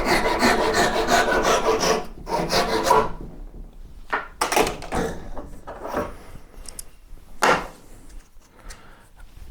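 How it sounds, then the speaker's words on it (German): A Japanese pull saw cuts wood for the handle of a yew longbow, making raspy, close strokes in short bursts with pauses between them. No one speaks. "Das geht mit so einer Japansäge natürlich auch immer besonders fix."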